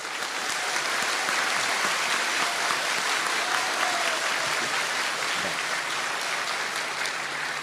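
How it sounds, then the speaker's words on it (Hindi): Loud, sustained applause from a large crowd gathered at a temple durbar in Karauli, a dense steady clapping that fills the whole stretch without letting up. "इन तीनों मुस्लिम भाइयों के लिए जोरदार ताली।"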